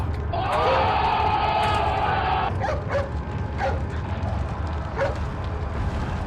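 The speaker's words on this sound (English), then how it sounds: "It's That dog." A dog barks several times in the Resident Evil game, short yips and barks over rumbling game ambience, with a voice talking at times.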